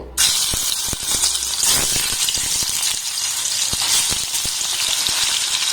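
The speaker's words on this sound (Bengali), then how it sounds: "এবার এই পনিরগুলোকে আমি তেলের মধ্যে দিয়ে ভেজে নেব" Paneer frying in hot oil in a kadai gives a steady, loud sizzle with crackling pops and spatters throughout, up close and without talk.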